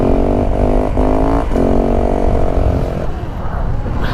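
A 450 motorcycle engine revs hard and steadily while the bike lifts into a wheelie, its loud droning note rising in brief surges, dipping with short throttle lifts, then fading toward the end.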